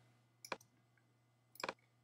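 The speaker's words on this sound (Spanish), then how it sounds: "un clic" Two crisp computer mouse clicks about a second apart during Photoshop editing work, quiet and close, each a quick double-tick over a faint steady hum.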